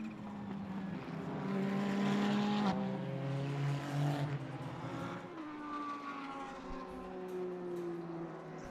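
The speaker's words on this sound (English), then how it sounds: "Loving the sounds of the turbos on those Ferraris as they spool up." Ferrari GT race cars' turbo engines whine and rise in pitch as they spool up and accelerate at Indianapolis, several cars overlapping at a moderate distance with a steady roar underneath.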